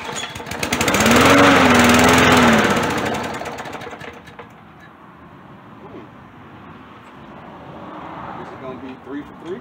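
A newer lawn mower engine needing primer is cranked, a loud broadband churning burst for about three seconds that fades into a low idle-like rumble, with a person talking over it.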